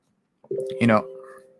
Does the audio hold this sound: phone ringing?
yes